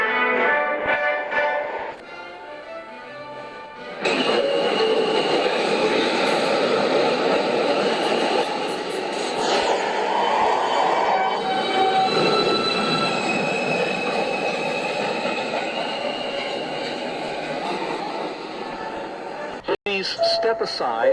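A Manhattan-bound NYC subway 2 train moves through a station, with a loud, steady rumble and a long metallic wheel squeal. Announcements and voices come in over it, and a sharp clunk sounds near the end.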